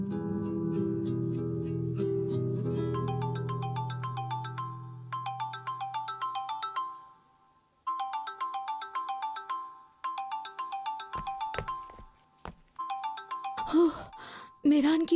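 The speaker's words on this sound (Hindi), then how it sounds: "मीरान की कॉल आ रही है।" An incoming call sets off a mobile phone's melodic ringtone, a repeating chime pattern that rings for several seconds after a fading tone before voices break in at the end.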